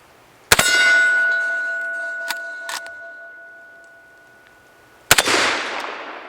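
Two loud .357 Magnum shots from a Henry Big Boy Brass lever-action rifle, several seconds apart, each followed by the sharp clang of a steel hostage popper target. The first strike leaves a long, fading metallic ring. Fainter knocks fall between the shots.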